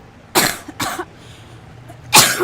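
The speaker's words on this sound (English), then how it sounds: "still coughing." Two quick coughs close together, then a third harsh cough after a short pause, loud and near with no talking.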